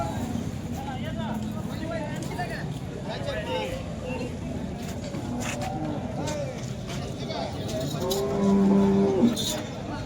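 Cattle at a busy cow market in Modnimb, with a cow's drawn-out moo rising near the end over constant crowd chatter and distant vehicle noise.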